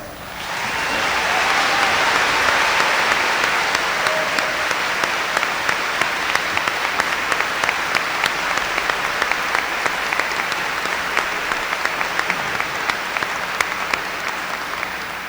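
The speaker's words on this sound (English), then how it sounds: "Teachers, if you could please stand so we can pay tribute with a round of applause." Sustained applause from a large audience at a school district commencement ceremony honoring teachers, a steady dense roar of clapping lasting the whole stretch with individual claps standing out, no voices over it.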